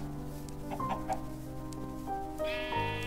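Farm animals in Minecraft bleat in a few short, tonal calls. They sound like a sheep or ram, and a few clucks of chickens mix in. The calls come close together over steady game background sound.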